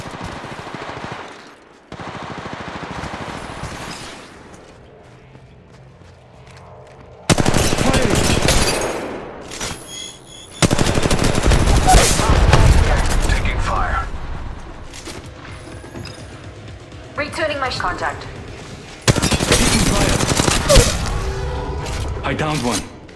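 Rapid automatic gunfire in Apex Legends Mobile, loud sustained bursts that start and stop abruptly across several stretches, mixed with impacts, mechanical clicks and game effects, close and dominant throughout.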